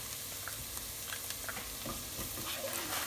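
Garlic and onions frying in a pan give a continuous, soft, even sizzle with faint crackles throughout, close by, with no talking.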